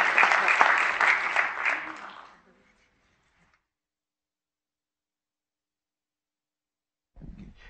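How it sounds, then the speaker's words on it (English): Audience applause at a Clark County commission meeting, loud and dense for about two seconds before fading into silence, with a brief low murmur returning near the end. "please give them another big, big, big round of applause"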